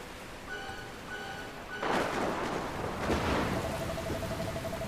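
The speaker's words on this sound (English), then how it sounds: "Where did this rain come from?" Rain in the video game Dragon Quest Builders 2 begins abruptly as a loud, steady, broadband hiss that replaces a quiet tonal musical passage and continues to the end, with a faint sustained tone returning underneath.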